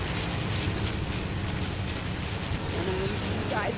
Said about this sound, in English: So many planes overhead.